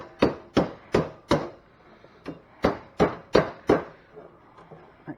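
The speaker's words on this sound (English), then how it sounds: "that's what this body hammer's for. Hammer it back" A body hammer strikes a 1942 Dodge WC-53 body panel in eleven sharp, close, separate blows, first in a steady run of four, then after a pause in quicker clusters.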